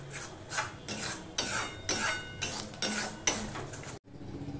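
A spatula rhythmically scrapes and stirs palak paneer masala in a pan, about eight regular strokes of metal on cookware with a faint sizzle, stopping abruptly near the end, with no voices.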